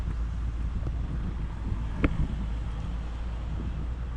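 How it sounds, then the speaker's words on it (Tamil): Wind buffets the microphone in a steady, soft roar, with a brief louder thump midway and no voices. "உங்களால் காற்று கூடவே இருக்குன்னு நினைக்கிறேன்."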